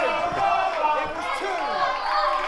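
A crowd at a live pro wrestling match roars and chants continuously, many voices overlapping in a loud, sustained cheer with shouted calls rising and falling.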